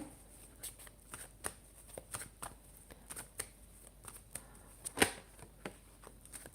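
Tarot cards being shuffled and handled at close range, a quiet stream of soft flicks and riffles with a sharper snap near the end.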